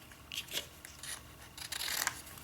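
Scissors snip through paper for handmade vintage postage stamps, giving a run of quiet, close, crisp cuts and rustles in irregular bursts.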